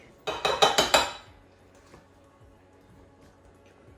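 Vanilla ice cream being scooped into a hollow chocolate Easter egg for a sundae: four or five quick clinking, clattering taps of a utensil in the first second, then near silence.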